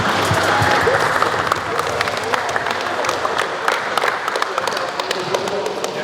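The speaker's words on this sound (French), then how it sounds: "Donc j'aimerais qu'on vous applaudisse" Audience applause at a BallNRise basketball tour event in Le Mans, sustained crowd clapping with crisp individual claps over several seconds, fairly loud and close.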